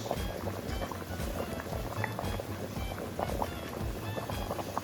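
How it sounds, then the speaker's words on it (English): Water runs over spinach being rinsed in a kitchen, a steady splashing, bubbling stream with small sloshes, fairly close and continuous, no voices. "I'm rinsing the spinach."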